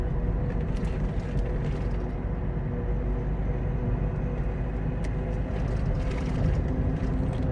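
Centipede-tread tires on the rear wheels of a car at around 80 km/h on an uneven road give off a loud, constant droning roar with road rumble throughout.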